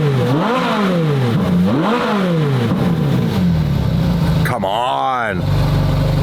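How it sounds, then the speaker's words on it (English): A car engine with its factory exhaust, not straight piped, revs repeatedly in rising and falling sweeps before one sharp, high climb. It is loud and close, with a voice speaking briefly over it. "Listen to this. And this is completely factory, not even straight piped yet."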